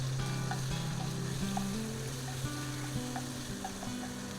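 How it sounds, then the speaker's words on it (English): Mushrooms and red fungus frying with garlic in a pan over low heat, a steady gentle sizzle with faint crackles and a low background hum, close and even. "Give them a good fry. Add a Chinese mushroom."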